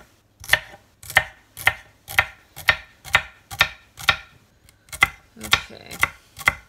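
Celery being chopped with a knife on a cutting board before dehydrating, about a dozen crisp, evenly spaced chops, close and clear, with a brief pause midway.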